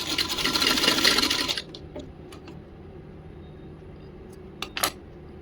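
Sewing machine stitching a small doll's blouse: a fast, buzzing run of stitches for about a second and a half, then quiet with a few faint clicks and taps as the fabric is handled.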